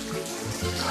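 Shower water runs steadily in a gym shower, a continuous close spray splashing and trickling as a quick rinse without soap.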